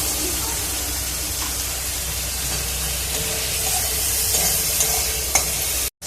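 Chopped tomatoes hitting a hot oiled pan for masala chana dal, giving a continuous loud sizzle with stirring scrapes, then cutting off abruptly at the very end.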